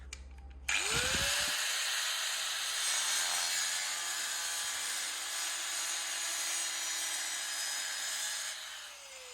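A power tool cuts through metal parts for a handmade jeep, a steady loud grinding whine starting abruptly and running continuously for several seconds before easing off near the end, with no talk.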